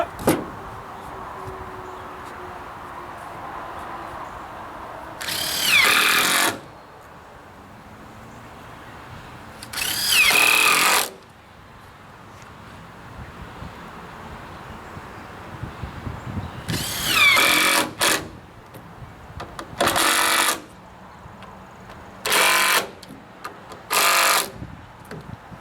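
Cordless power drill driving screws into a wooden table frame, several short whirring bursts of one to two seconds each separated by quiet pauses with handling noise, close and loud.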